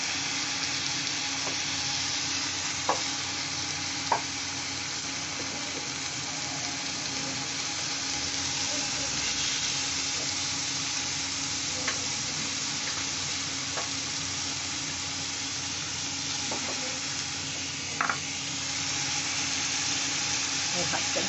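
Shrimp hit a hot pan for a Bengali village-style shapla chingri (water lily stems with prawns), setting off a loud, steady, close-up sizzle of frying that runs throughout, with occasional small pops and spatters.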